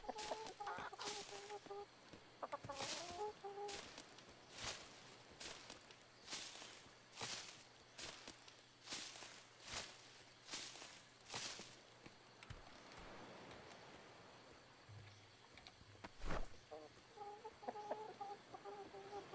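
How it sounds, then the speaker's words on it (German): A chicken in the video game Atlas clucks in short bursts over a steady stream of rapid footstep-like thuds, all faint and distant in tone. "Da ist das Huhn."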